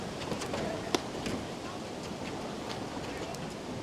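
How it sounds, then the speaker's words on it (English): Strong wind gusts outdoors on a snowy day at a women's invitational quarter-final, a steady broadband roar with a brief sharp knock early on. "There's a big, huge gust going on now."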